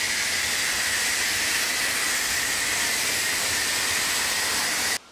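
A car steam cleaner hisses in one loud, unbroken rush that holds steady and cuts off abruptly at the end, with no voices.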